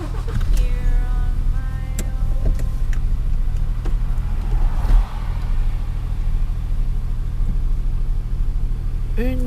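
A car rolls along the road with a steady loud engine and tyre rumble throughout, heard from inside the cabin, with a brief bump midway.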